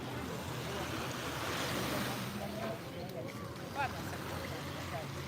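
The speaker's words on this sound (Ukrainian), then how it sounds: "Включила вам трошки моря послухати" Steady, continuous roar of warm sea surf washing in close by on a French beach, a dense broadband rush with faint voices in the background.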